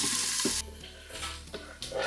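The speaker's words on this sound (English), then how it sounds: "you want to saute the veggies until they're nice and golden" Chopped vegetables sauté in an Instant Pot pressure cooker on its sauté setting. A steady loud sizzle is broken by a few stirring scrapes, and no one speaks.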